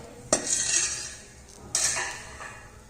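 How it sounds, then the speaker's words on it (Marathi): A metal lid is lifted off a pan of cucumber batter cooking over a medium gas flame, giving two sharp metallic clinks about a second and a half apart, each followed by a soft fading ring. Cooking sizzle continues faintly underneath. "आता आपण हे झाकण काढून घेत आहोत"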